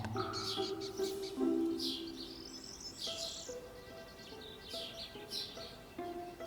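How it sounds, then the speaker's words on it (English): Small birds chirp and tweet in quick repeated calls around roof shingles, high and fairly close, over a soft hum of background noise. "A persistent sparrow patrols the roof shingles."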